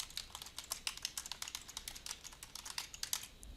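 Computer keyboard typing into a document in Adobe Acrobat DC Pro, a quick, uneven run of close, crisp key clicks with no voices.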